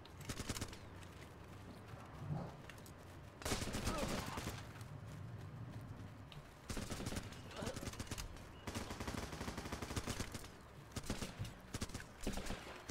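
Dense automatic rifle fire from the Running With Rifles video game, loud sustained bursts and volleys with brief lulls between, continuous across the whole stretch.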